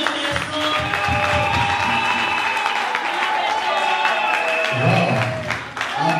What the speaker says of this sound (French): Applaudissez très fort, applaudissez très fort.